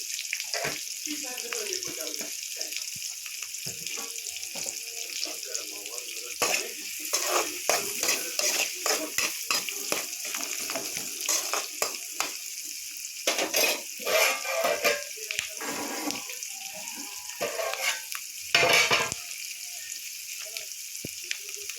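Onions frying in a pan with a little salt, a continuous close sizzle broken by repeated scraping and stirring of the spatula, growing busier in the middle with a louder clatter near the end.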